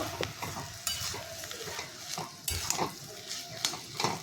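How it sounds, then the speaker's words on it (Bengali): Vegetable chop filling with roasted spices stirred in a frying pan: repeated scraping strokes of a utensil against the pan come in an irregular rhythm over a low sizzle, close and moderately loud. "এবার সব কিছু দিয়ে নাড়াচাড়া করে নামিয়ে নেব"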